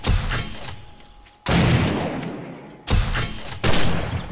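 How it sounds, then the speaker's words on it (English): Shotgun blasts in the video game 7 Days to Die, three loud booming shots spaced over a few seconds, each with a long decaying tail, close and alone without talk. "I'm not actually hitting him with the bloody shotgun, am I?"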